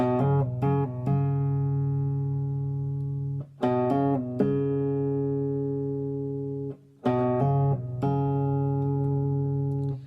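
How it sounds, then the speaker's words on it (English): A run of smooth, connected guitar notes played with hammer-ons and pull-offs, one after another, ringing clearly in short phrases separated by brief pauses, with no talking. "you get this kind of stream of smooth sounding notes played one after the other"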